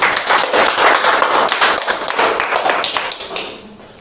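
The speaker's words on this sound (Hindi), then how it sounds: "बहुत बढ़िया, शाबाश, ताली बजाओ उसके लिए।" Group applause at an acting workshop, dense close clapping from many hands that holds steady, then thins and fades out over the last second.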